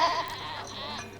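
A goat bleats once up close, a loud wavering cry lasting about a second, with no talking over it.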